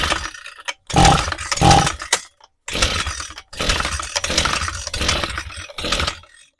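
A Toro string trimmer with a rebuilt carburetor is pulled over repeatedly without firing, giving several short rasping bursts of cord and mechanism noise separated by brief pauses.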